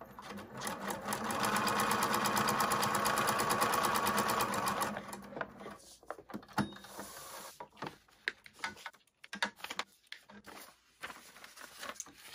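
A sewing machine stitches a foundation paper pieced pineapple quilt block in one sustained whirring run lasting a few seconds, followed by quieter clicks and rustles as the fabric and paper are handled.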